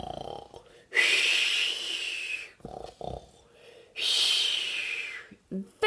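A cartoon wolf in a Little Red Riding Hood story snores loudly while asleep, two long rasping snore breaths with short gaps and softer breathing in between, voiced as an imitation.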